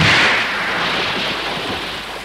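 Salt water from ocean tides rushes in with a loud hissing roar, strongest at the start and easing slowly, with no one speaking over it.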